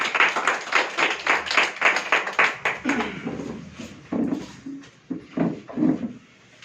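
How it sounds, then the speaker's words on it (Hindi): Audience at a company customer meeting claps to welcome a speaker, a burst of fairly close, uneven hand claps that fades and then returns in scattered spurts, with no talk over it. "जोरदार तालियों से उनका भी स्वागत करें"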